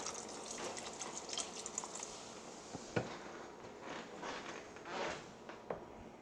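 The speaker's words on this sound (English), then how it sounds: "I'm going to add just a little bit more of the beef broth" Beef broth poured into a pot of mole pork chili, a soft liquid splash and trickle with faint clinks of the container, quiet and close.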